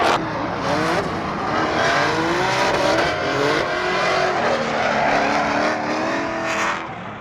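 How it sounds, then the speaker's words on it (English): A car drifts at an outdoor car show event, its revving engine and squealing tires loud and continuous, with wavering pitch as the throttle shifts. "Drifting."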